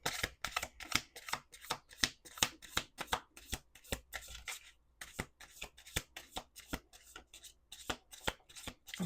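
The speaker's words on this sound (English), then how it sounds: "2 more shuffles." A deck of cards being shuffled by hand, a rapid series of crisp riffling bursts and snaps in a steady rhythm with a brief pause midway, close and clear with no talking.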